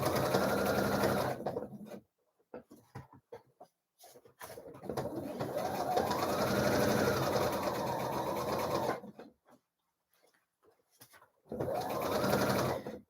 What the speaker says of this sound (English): that was me just sewing over a pin